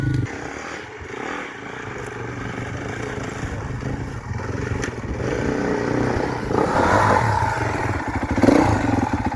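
A Beta 390 motorcycle engine runs steadily and fairly loud, its mid-pitched drone swelling toward the end as if revved, with some clattering mechanical noise mixed in.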